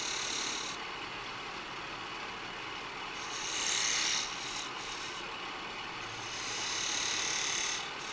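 A hand saw makes slow, careful cuts in wood for a tilted ring box. The soft, raspy strokes are faint and steady and swell a little in places, with no talking.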